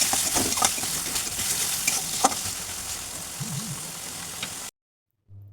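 Shrimp for a coconut-milk prawn malai curry fry with chili paste in a pan, a steady close sizzle broken by a few stirring scrapes, before cutting abruptly to silence near the end.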